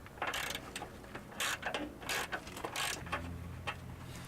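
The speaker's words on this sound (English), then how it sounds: "Once the fasteners are loose, they can easily be removed with a ratchet." Ratchet loosening front bumper fasteners on a Ford F-150 pickup, bursts of quick clicking pawl strokes in uneven rhythm, close and clear without speech.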